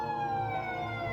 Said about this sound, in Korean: 경찰차는 즉시 출동했고